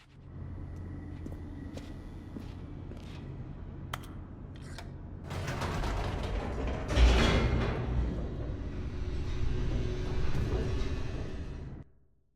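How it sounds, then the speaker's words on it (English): An elevator descends in The Stanley Parable, a steady mechanical rumble under faint clicks that swells into a louder roaring rush midway, holds, then cuts off abruptly at the end. "The elevator raced downward, plummeting towards an unknown fate."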